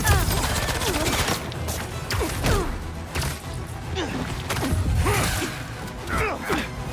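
Gunfire in the Spider-Man 2 video game: dense, rapid bursts of shots crackle over a loud, busy combat mix, with sharp impacts and swells recurring throughout.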